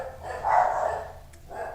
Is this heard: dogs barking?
yes